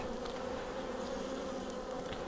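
Dense, steady buzzing of a huge colony of honeybees around an open hive while frames are worked, a continuous close drone with no talk.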